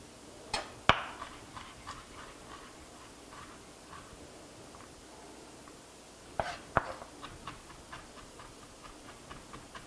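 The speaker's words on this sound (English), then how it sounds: "I'm going to give those a little pop and mince them up pretty fine" A knife chops and minces garlic cloves on a board, sharp wooden taps in two short clusters of quick knocks separated by a quiet pause, close and crisp with no talking.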